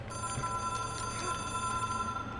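A telephone rings in the game Control, a bright electronic trill that pulses rapidly and steadily over a low background hum.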